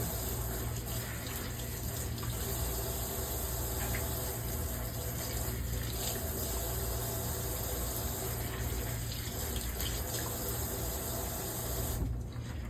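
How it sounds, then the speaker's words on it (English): Tools are rinsed under running tap water in a sterile area after the water is drained. The stream is a steady, moderate rush with no break, there is faint background hum, and no one speaks. "I'll rinse my tools again, just to make sure I got everything back in the sterile area."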